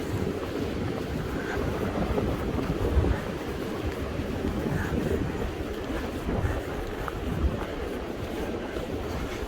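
Steady wind buffeting the microphone on a foggy, windy hiking trail, a loud continuous low rumble and rush with no pauses and no talking.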